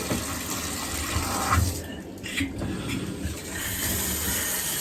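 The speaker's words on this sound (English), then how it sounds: "Then I put my shower nozzle on again." A shower nozzle sprays water into a bathtub to rinse it: a steady, moderately loud hiss of running water that continues throughout, with no one speaking.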